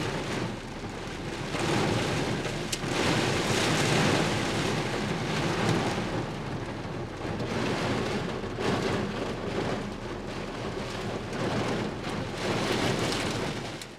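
Steady rain pattering outside a 2015 Chevrolet Silverado 1500 Regular Cab truck, with a low continuous rumble like distant thunder beneath the broadband hiss, no speech.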